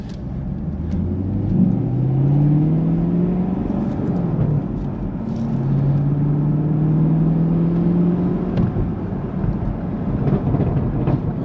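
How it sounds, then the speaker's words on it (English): A 2020 Chevrolet Camaro SS 1LE V8 with six-speed manual roars and revs, pitch rising through the gears with brief dips at shifts, loud and close, no talking. "just want you guys to enjoy this V8 with the manual"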